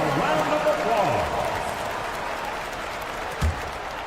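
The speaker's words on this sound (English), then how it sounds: "Give yourself a round of applause." Crowd applause and cheering fill a basketball arena, a steady broad wash of clapping with a voice briefly audible over it.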